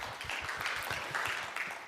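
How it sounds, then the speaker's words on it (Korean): Faint, brief applause from a conference audience at a food industry outlook forum, scattered hand claps welcoming a presenter to the stage. "여러분 큰 박수로 환영해 모시겠습니다."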